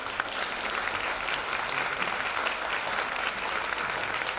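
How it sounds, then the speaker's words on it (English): An audience claps at a school annual day, a steady, sustained wash of applause from a crowd that lasts the whole stretch without a break. "clapping."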